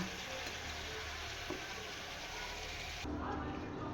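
Potol, paneer and potato curry sizzles and fries steadily in a pan, a soft continuous crackle close by, with a faint stir or clatter partway through and a slight change in tone near the end.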